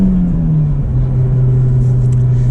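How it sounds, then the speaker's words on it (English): A 2024 Honda Civic Type R accelerating, its engine note a loud, close drone that rises gradually in pitch from inside the car. "All right, a little bit of acceleration."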